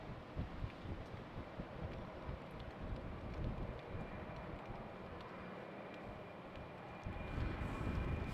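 An airplane takes off at Schiphol airport in winter conditions, a low, rumbling jet roar at a distance mixed with gusty wind buffeting the microphone, swelling slightly toward the end.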